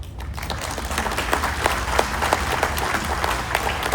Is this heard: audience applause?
yes